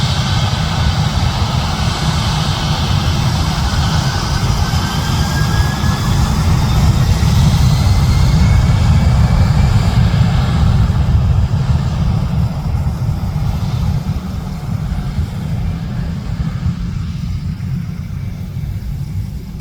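Airliner taking off at night from Francisco Bangoy International Airport in Davao City, a loud, sustained jet engine roar with a broad rumble, holding strong then slowly easing as it recedes, with no talk.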